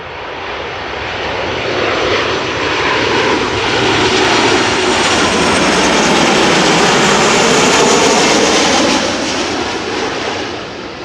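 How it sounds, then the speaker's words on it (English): A Boeing 737-800 jet arrives at Amsterdam Schiphol Airport and passes close overhead with a loud, sustained engine roar that swells and then eases slightly as it goes by. "737-800 coming up"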